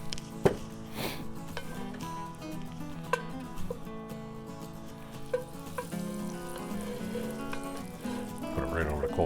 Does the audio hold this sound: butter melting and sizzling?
yes